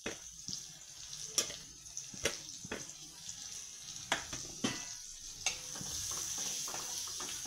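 Finely chopped onions being stirred in a hot pan for paneer bhurji, with a soft frying sizzle and a series of sharp spatula scrapes and taps against the pan, close up and without talking.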